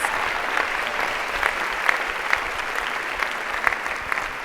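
A large audience at a women's leadership event gives a sustained round of applause. The clapping is dense and steady throughout, with scattered sharper claps standing out.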